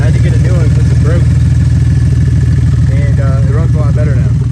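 A 2006 Mercedes C230 with a swapped-in 3.5-liter engine idles loudly and steadily up close, a low continuous rumble while a person talks over it.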